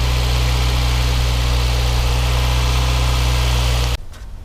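The warmed-up engine of a 1982 Volkswagen Scirocco idles with a loud, steady, deep hum and an even rumble, then cuts off abruptly near the end.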